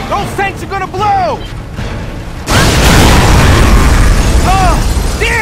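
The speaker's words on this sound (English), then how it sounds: "Those tanks are gonna blow!" Tanks blowing up in Gears of War 3 on board a ship: a sudden loud explosion bursts in midway and roars on as a sustained rumble, with a voice talking over the first half and again near the end.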